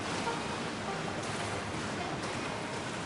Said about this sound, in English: I'm swimming in the waterfall.